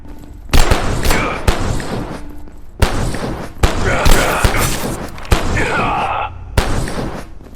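Energy beam pistol blasts in the sci-fi survival game Abiotic Factor, a run of loud, sharp discharges in quick bursts with gaps between, close and punchy against a busy game soundscape.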